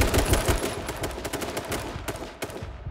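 Rapid gunfire in the survival shooter H1Z1, a dense string of loud sharp shots in quick succession for nearly three seconds, with no talking over it.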